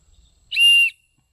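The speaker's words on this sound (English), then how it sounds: "slim line, very slim line whistle." A slim-line whistle from a SOL Scout survival kit blown once, a loud, shrill, steady blast lasting under half a second, close and alone after a quiet lead-in.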